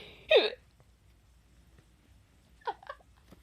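A single sharp hiccup bursts out near the start, followed by quieter catchy breathy sounds after a pause, with no talking.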